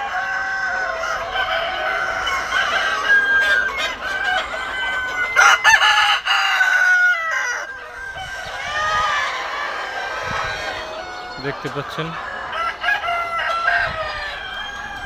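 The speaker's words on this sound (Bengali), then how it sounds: "সবগুলা মোরগ মুরগি উৎফুল্ল আছে।" Roosters and hens on a poultry farm crow loudly and cluck in overlapping bursts, several birds calling near and far, while someone speaks briefly over them.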